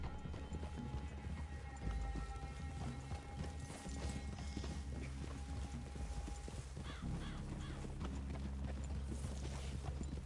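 Horse hooves clip-clopping in the video game Red Dead Redemption 2, a steady walking rhythm close by with creaking tack and occasional snorts, continuing throughout over low ambient outdoor sound.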